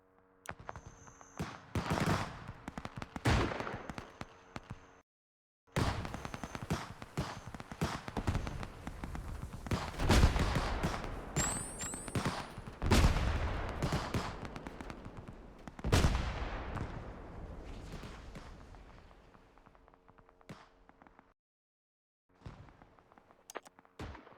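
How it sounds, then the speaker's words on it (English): Gunfire and explosions from the military game Arma 3, with repeated bursts of shots and heavy blasts rising and fading in uneven waves, broken by brief silences, with no speech. "we're hearing explosions, shots, and we saw a helicopter doing a gun run"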